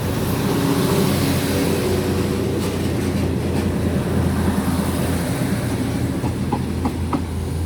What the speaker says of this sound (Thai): มารอขบวนธรรมดาที่ 276 ค่ะ เดี๋ยวก็จะสวนเข้ามา